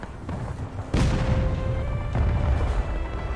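A battery of cannons fires in a loud, close boom, then a second blast follows about a second later, each leaving a rumbling tail, with no talk.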